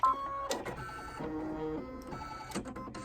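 An embroidery machine automatically threading its needle while finishing an Easter bunny table runner: close mechanical whirring, clicking and short motor buzzes in quick stop-start bursts.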